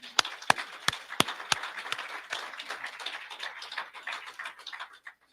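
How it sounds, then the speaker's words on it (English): Audience clapping for House of Delegates candidates at a Maryland election forum, opening with a few sharp, distinct claps that spread into moderate, scattered applause and taper off toward the end. "A round of applause for the group tonight."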